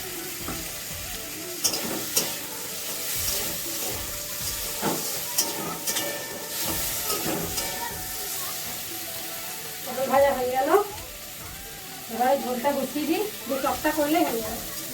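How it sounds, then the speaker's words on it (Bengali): Pointed gourd (potol) frying in a pan gives a steady sizzle and hiss with occasional stirring scrapes, while someone talks nearby over the cooking. "পটলটা ভেজে নিচ্ছি"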